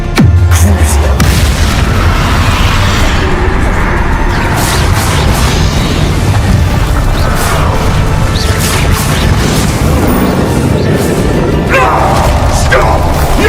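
Spell combat in Hogwarts Legacy: a dense, loud run of magical blasts, booms and crashing impacts, one after another over a steady roar of battle effects, with no pause across the whole stretch.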